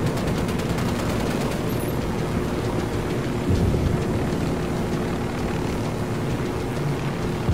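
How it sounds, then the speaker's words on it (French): In the shooter Ghost Recon Wildlands, two helicopters fire missiles in a continuous roaring, rumbling barrage with rotor chop and crackling bursts, loud and dense throughout without any speech. "Il y a deux hélicoptères qui tirent des missiles."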